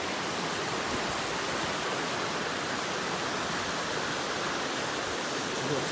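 Steady broadband rush of stream water flowing through woods off trail, continuous and fairly loud throughout with no breaks.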